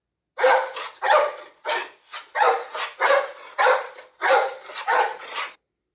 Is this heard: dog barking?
yes